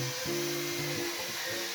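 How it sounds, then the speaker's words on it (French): Belt sander working on wood, a close, steady motor whine with shifting pitch as the load changes against the workpiece, running alone without talk. "Il y a beaucoup de boulot, la ponceuse à bande elle chauffe."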